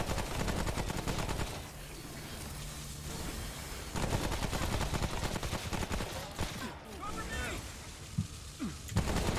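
Gunfire rattles through a fight in Remnant: From the Ashes as loud, dense bursts of rapid shots and blasts. The shooting is nearly continuous, with brief voices and shouts mixed in.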